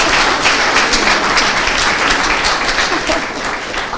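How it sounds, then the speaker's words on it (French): A standing audience applauds a woman finalist at a competition final, steady dense clapping filling the room throughout, tapering slightly near the end. "On va se lever pour l'applaudir."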